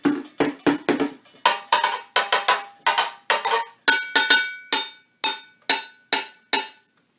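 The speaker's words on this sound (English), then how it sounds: "you've got your pots and pans, you've got different size pots" Various pots and pans of different sizes struck one after another for baby music play, a steady run of about twenty loud, clanging metallic hits, some in quick pairs and triplets, each ringing briefly before the next, with no voices.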